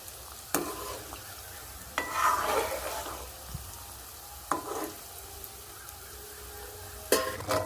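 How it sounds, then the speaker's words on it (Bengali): Homemade cashew biscuits made from flour fry gently on low heat in oil, with a soft continuous sizzle and several distinct spoon clanks and scrapes against the pan as they are stirred. "এগুলোকে হালকা আঁচে এটাকে আমি ভেজে নেব"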